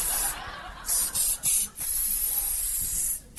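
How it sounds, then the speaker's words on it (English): A can of cayenne pepper spray hisses in several short bursts, close and loud, with brief gaps between sprays. "Feels so good right now, I'm going to spray it right in my own face."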